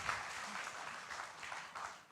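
An audience at a law faculty plenary panel gives a soft, distant round of applause, a steady patter of many hands clapping throughout.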